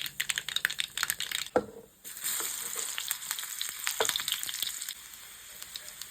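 A loud, steady sizzle of shallots frying in hot oil with mustard seeds, with crackling bursts and a brief stir partway through.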